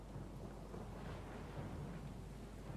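Loud thunderstorm in a video game: a deep, steady rumble of thunder with continuous rain noise, sustained at an even level throughout with no voices.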